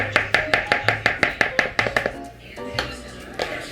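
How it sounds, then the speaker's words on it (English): Condensed milk and all-purpose flour being mixed in a bowl for coconut macaroons, heard as a quick even run of a dozen close, sharp utensil taps against the bowl, then softer scraping. "So you mix this together."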